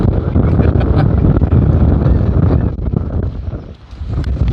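A strong wind gust sweeps over a sailboat racing in the Vintage Gold Cup 2022 regatta, a loud, continuous roaring rush of wind buffeting the boat, with a brief dip in intensity near the end and no clear speech.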